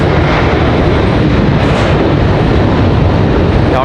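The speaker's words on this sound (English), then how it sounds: "Delta touching down before United even left the ground" A Delta airliner touches down at Raleigh-Durham airport, its engines a loud, steady, broadband roar that fills the whole stretch without letup.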